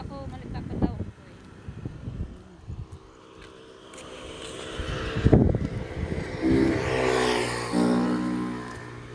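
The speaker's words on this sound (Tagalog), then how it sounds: "Ang lakas po ng hangin, Talaga po naman, lakas ng hangin." Strong wind roars and buffets the microphone in a steady, rushing rumble, with a person talking over it throughout.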